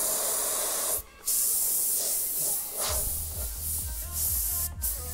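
An airbrush sprays paint onto a Notre Dame football helmet, adding graffiti-style swirls. The hiss is steady and close, cut by short pauses, with a low hum coming in during the later passes.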